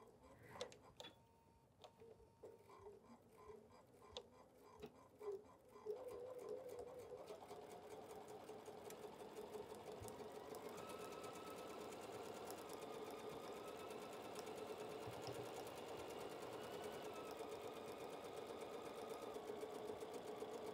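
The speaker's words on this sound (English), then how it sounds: "We're going to start stitching and backstitch" A sewing machine stitches a quilt, starting with a few short halting runs and backstitches, then settling into a long, steady, loud whir of rapid ticking stitches.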